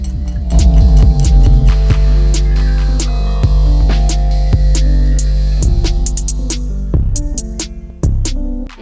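An electric beater whips banana cake batter with sugar, its motor humming loudly and close, shifting pitch as the speed changes, with occasional clicks and knocks against the bowl.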